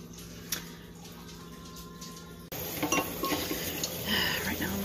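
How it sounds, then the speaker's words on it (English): Dishes being washed by hand, with soft clinks of plates and cutlery and running water, growing louder and busier partway through; chickens cluck faintly in the background. "Dishes!"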